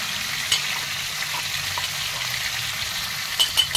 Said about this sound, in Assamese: এতিয়া মাংসখিনিও ভজা হৈছে আৰু প্ৰায়